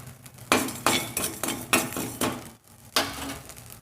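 Salt being lightly dry-roasted in a pan for a curry-leaf spice powder, with repeated close scraping and clinking of a metal spoon against the pan in an uneven rhythm.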